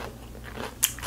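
A single crisp, close bite into a fresh cucumber during a kimchi meal, a short crunchy snap followed by faint chewing.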